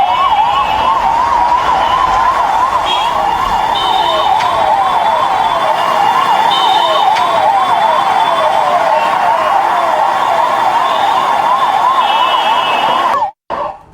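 An ambulance siren wails steadily in a fast up-and-down yelp, loud and close as the vehicle arrives at Medanta hospital, with traffic noise underneath and a sudden cut near the end.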